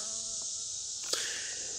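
Close, steady buzzing of bees in flight, with a brief louder buzz as one passes near.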